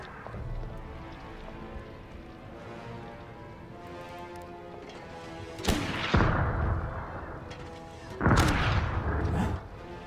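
Two heavy booming blasts from a mortar firing at a tank in the Total Tank Generals video game, each a sharp crack followed by a rumbling tail, over a low steady background.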